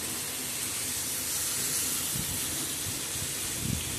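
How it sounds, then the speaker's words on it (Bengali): Hilsa fish heads frying in a wok of hot oil give a continuous loud, dense sizzle and hiss, close by and steady, with a few faint soft knocks underneath and no talk. "মাছের মাথিগুলো প্রথমে ফ্রাই করে নিল"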